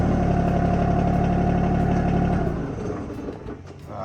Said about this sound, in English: let me fire up the tractor and get this thing up in the air some